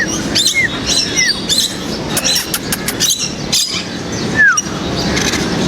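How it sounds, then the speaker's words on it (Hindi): Parrots flying around at Mino Zoo's wildlife experience center in Karachi, giving short, scattered chirps and whistles over a steady outdoor background hum. "तोते जो हैं वो मंडला रहे हैं"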